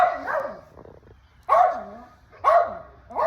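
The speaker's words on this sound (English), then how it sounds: "y'all don't mind the pup back in the background" A dog barks in short bursts, three or four sharp, fairly close barks spaced about a second apart, with brief yelps trailing each one and no talk.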